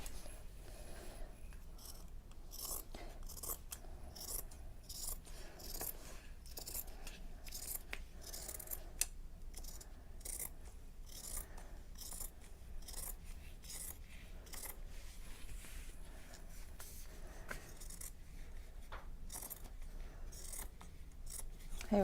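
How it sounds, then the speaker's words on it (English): Scissors snip through the seam of a cotton T-shirt in a quick, repeated series of close, crisp cuts with fabric rustle between them, quiet and without talk. "here we'll cut the seam off"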